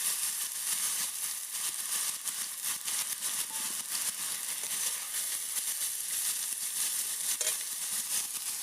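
Thinly sliced potatoes frying in oil in a pan with black cumin, a steady, close crackling sizzle that continues without pause.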